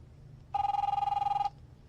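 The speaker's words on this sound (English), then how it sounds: "Phone." A telephone in The Wolf Among Us gives one loud, close, rapidly trilling electronic ring lasting about a second, alone in a quiet scene.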